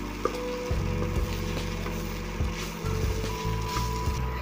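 Grated potato frying with vegetables in a hot pan for a crispy spicy aloo sandwich, a steady low sizzle with a few clatters and stirring bumps, close and continuous with no talk.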